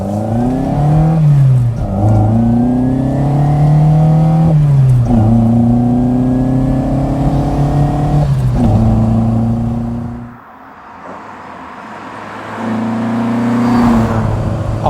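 A Fiat 131 Abarth's twin-cam engine revs repeatedly, rising and falling in loud close sweeps with short gaps between, then dips briefly before revving up again.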